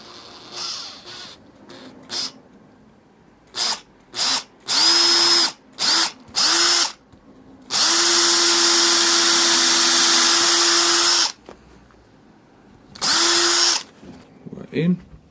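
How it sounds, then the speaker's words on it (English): An electric drill bores a screw hole in a wooden shotgun stock, whining in short bursts and then one long steady run, with quiet pauses between bursts and faint handling noises. "Now we're going to drill a hole in there, put a screw in,"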